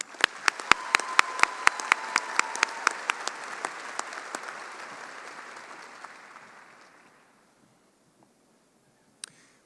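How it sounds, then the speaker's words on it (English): Round of applause from a commencement crowd honoring university medalists, starting with sharp individual claps over dense clapping that swells, then fades out over about six seconds, followed by near silence and one late clap. "join me again in congratulating both of our university medalists on their exemplary academic achievements with another round of applause"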